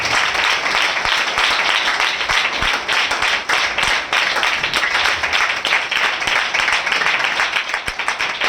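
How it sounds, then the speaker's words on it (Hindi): Loud, dense clapping from a church congregation at a worship gathering, continuous and close, with occasional sharper claps standing out. "जोरदार ताली से बजाएं"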